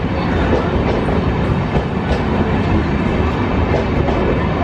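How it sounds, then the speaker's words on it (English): The KSR Bengaluru–Kanyakumari Express, running with new LHB coaches, rolls past at Bangalore Cantonment station. It gives a loud, continuous rumble with faint rhythmic wheel clatter and no voices. "KSR Bengaluru Kanyakumari Express with the new LHB racks being moved to Bangalore City Junction for departure"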